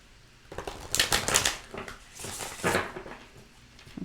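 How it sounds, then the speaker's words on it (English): Tarot cards shuffled by hand during a reading, a soft papery riffling and patter in two bursts, close and moderately loud, with brief pauses between and no talking. "One more shuffle."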